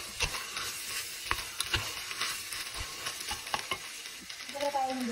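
Chili and vegetables fry in a pan while a spoon stirs them, giving a steady sizzle with repeated scraping strokes over about five seconds and no voices.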